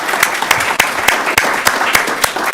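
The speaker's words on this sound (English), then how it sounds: "let's give him another round of applause" Loud, close audience applause at a school district award ceremony, sharp individual claps standing out rhythmically over a continuous wash of clapping.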